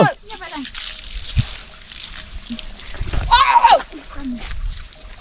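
Water splashes and sloshes as bowls and dishes are washed outdoors, with intermittent close splashes mixed with voices talking nearby.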